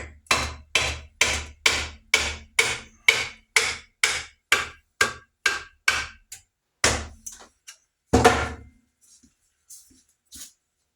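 Hammer blows driving a vintage Collins Dayton axe head onto a new old-stock Collins replacement wooden handle: a rapid, even series of sharp, ringing strikes, close and loud, slowing and spacing out toward the end with a final heavy hit.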